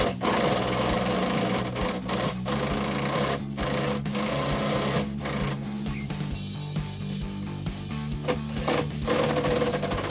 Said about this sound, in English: Again, I don't recommend using a drill.